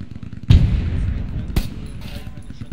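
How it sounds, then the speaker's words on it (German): A loud burst of suppressive machine-gun fire in the WWII shooter Hell Let Loose, with a second shot about a second later, both close and heavy, with faint voices in the background. "Unterdrückungsfeuer einleiten."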